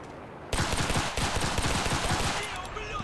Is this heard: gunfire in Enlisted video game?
yes